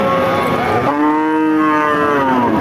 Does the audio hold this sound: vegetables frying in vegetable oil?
no